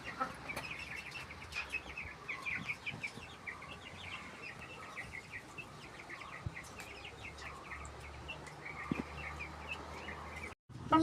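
Hens clucking in their cages, a steady stream of soft, repeated clucks and chirpy calls from several birds at close range throughout, with a few louder bumps.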